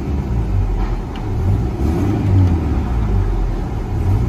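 A 2000 Toyota Tacoma 4-cylinder with a Borla ATAK exhaust, heard from inside the cab: a loud, deep, steady engine drone with a low rumble that swells slightly as if revving gently, no speech.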